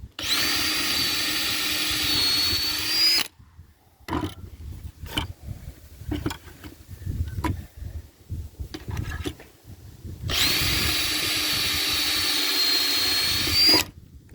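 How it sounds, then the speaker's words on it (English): A power drill with a 3/16 inch bit whines loudly for about three seconds drilling into a wooden 2x4, pauses amid quieter handling clatter, then drills again for another long, steady burst. "So I'm drilling into this 2x4."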